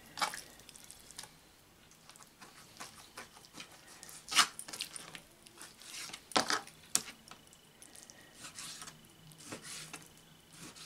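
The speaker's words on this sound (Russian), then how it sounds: "Нарезаем курочку маленькими кусочками." A knife slices raw chicken breast into small pieces, quiet wet squishing cuts with soft rubbing against a board, irregular and faint in a still kitchen.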